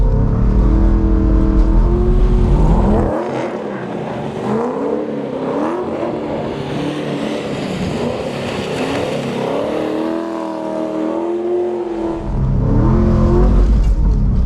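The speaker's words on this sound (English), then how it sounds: "You're literally watching me learn how to drift right now, you guys." A Nissan Skyline R34 roars while drifting in first gear. The engine revs loud and close, dips briefly, then surges hard again near the end.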